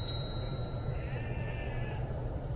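Sheep bleating in a video game, a thin drawn-out cry layered over a steady low droning game soundtrack, with a faint chime-like ring at the start, continuous and moderately loud.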